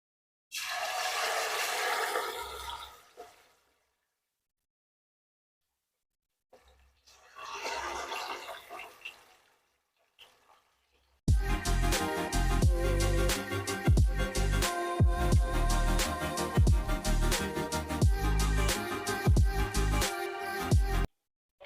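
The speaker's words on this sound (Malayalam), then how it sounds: "എണ്ണത നല്ലോണം ചൂടായിട്ടുണ്ട് കേട്ടോ അപ്പോൾ നമുക്ക് ഓരോ പീസും ഇട്ട് കൊടുക്കാം" Marinated chicken pieces hit hot oil in two short sizzling bursts separated by silence, then a loud, dense, crackling fry takes over and continues steadily up close.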